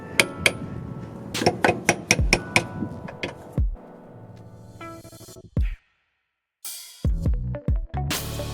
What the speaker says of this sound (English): so I'm going to hammer it a little bit back